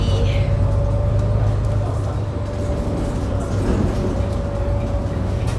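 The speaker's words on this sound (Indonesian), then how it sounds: "Kita sekarang di dalam bus." Inside a moving city bus in Singapore, a steady low engine drone and road rumble with a faint hum running throughout, and people speaking faintly underneath.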